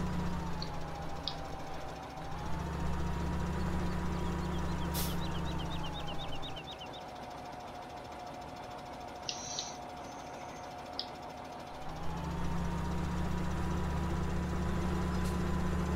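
A farm tractor engine runs steadily out in the fields, a low droning hum that holds throughout, with faint bird chirps on top.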